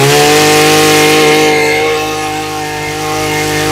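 A Japanese Makita brush cutter engine runs at close range with a loud, steady buzzing drone. It eases off slightly in the middle, then climbs back up.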